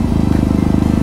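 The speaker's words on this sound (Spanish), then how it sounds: "es mi moto y amo esta moto" A motorcycle engine runs steadily with a throbbing, rapid low-pitched pulse, loud and close as if heard from the bike while riding, with no voices over it.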